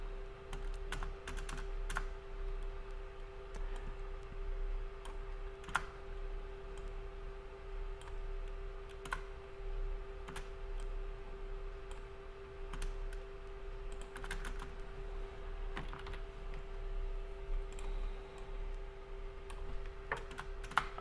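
Steady keyboard typing with scattered sharper keystrokes, a programmer deleting lines of code on a computer while configuring an ESP32 thermostat, continuous over a constant low electrical hum, no voices.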